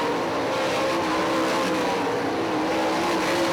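Sprint cars race at Hartford Speedway Park in Michigan during a 2008 SOD Sprints 'King of Michigan' event, making a continuous, dense engine roar that holds steady and loud throughout.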